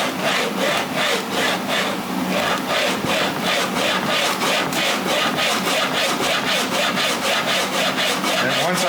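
Sandpaper on a sled rubs back and forth over wood for a guitar headstock, a loud, rhythmic rasping stroke repeated roughly every half second, close and continuous.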